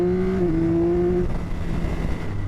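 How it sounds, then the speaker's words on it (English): A 2025 Yamaha R9 sport bike, built around the MT-09 engine, holds a strong revving note that then steps down and fades into lower rumble as it works up through the gears, loud and close. "you're up through the box, you're using the gears, sounds incredible"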